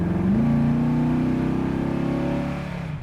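A 1972 Chevrolet Chevelle with cowl induction accelerates, its V8 engine rising to a loud, throaty drone heard from inside the car, then easing off toward the end.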